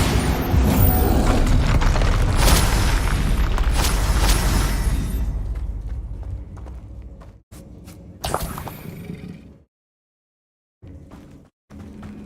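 Bombarda explosion spell in the Hogwarts Legacy video game during combat; a loud booming blast with whooshing debris and rumble, followed by shorter thuds and impacts as the sound breaks into gaps of silence.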